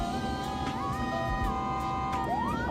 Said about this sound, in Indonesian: Dari jauh ambulan sudah.